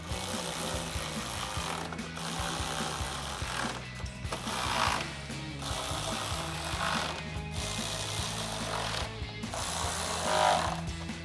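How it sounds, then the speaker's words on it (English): A ratchet with a 10mm socket tightens headlight bolts on a RAM 1500 in close, rapid clicking bursts, each run lasting a couple of seconds and separated by short pauses, repeated several times. "Then we'll grab that 10mm socket to tighten them down."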